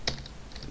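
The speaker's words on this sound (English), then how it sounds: "We'll just type something like" Quick typing on a computer keyboard while writing code, a short burst of close, soft key clicks.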